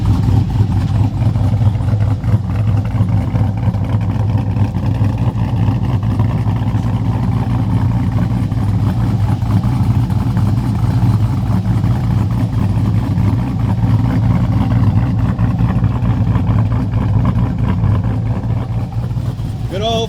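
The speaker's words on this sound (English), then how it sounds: "my truck's cammed ridiculously, so the truck shakes" A heavily cammed 2002 Chevrolet Silverado 5.3 V8 idles loud and close with a lumpy, throbbing low rumble that stays steady throughout, with a voice talking over it.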